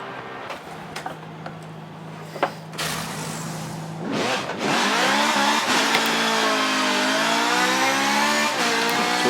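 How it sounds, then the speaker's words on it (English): A Ferrari race car engine accelerates on a track, starting with faint clicks and a low idle before a loud, rising howl climbs through the gears and holds a steady high-revving drone to the end. "we are finally going to get our first race car on the road"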